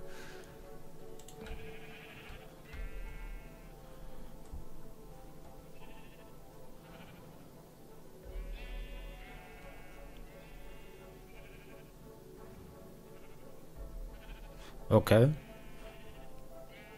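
Several quavering bleats from a Minecraft sheep come at intervals over a quiet background, with someone speaking German between them and a sudden louder burst near the end.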